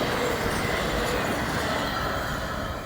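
A long FEC freight train rolls past close by, a continuous loud roar of wheels and rail noise that holds steady throughout and eases off slightly toward the end.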